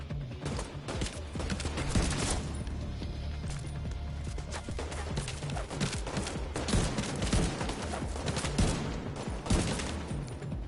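Dense automatic gunfire rattles almost nonstop in the video game The Division 2, loud overlapping bursts of shots layered over rumbling game action for the whole stretch.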